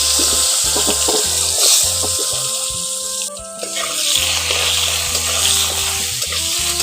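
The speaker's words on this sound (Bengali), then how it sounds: "ওই তেলের মধ্যে আলুগুলো ভেজে নিচ্ছি।" Potato pieces fry in hot oil for a vegetarian pointed-gourd and paneer dish, a steady close sizzle running throughout with a faint tonal hum in the background.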